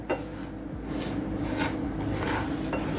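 Semolina (rava) is lightly dry-roasted in a pan for kesari, with a spatula scraping and stirring in steady, close, continuous strokes against the metal.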